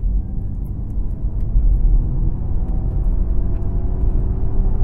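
A steady, loud synthetic propulsion drone from a Ford Mustang Mach-E electric car in Untamed mode, low and humming with faint rising tones, heard continuously inside the cabin without speech.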